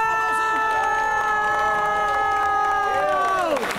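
A crowd at an outdoor town festival in Bauska cheers and applauds as a newly engaged couple leaves the stage, a loud close roar of clapping and whoops under a sustained sung or shouted tone.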